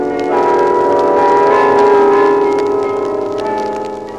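Church bells ring from the towers of Amsterdam in a steady, loud, layered peal. The tones overlap and sustain continuously, with no talking.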